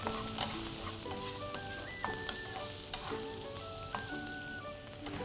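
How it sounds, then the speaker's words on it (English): Chopped onions fry with browned cumin seeds in a pan, a constant close sizzle under soft background music, with no talk. "add about a cup of onions. About one and a half chopped onions, and cook till they are lightly browned"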